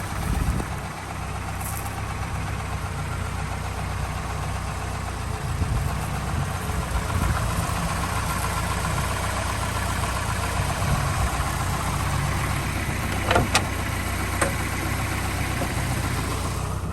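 A 1986 Ford Capri Laser 1.6 OHC engine idles steadily and close for a long stretch, a low continuous rumble with a few faint clicks.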